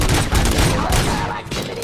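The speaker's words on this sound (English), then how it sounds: "Gunshots? What's going on?" Gunfire in the video game RoboCop: Rogue City, a rapid fusillade of shots crackling densely and loudly throughout, with faint voices mixed beneath.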